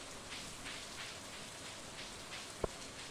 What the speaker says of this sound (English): I forget I am supposed to fish when it's raining.